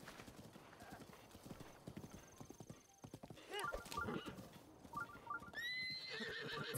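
Horse hooves clip-clop in an Italian-language video game, followed by a loud neigh and whinny, close, over soft ambient background noise.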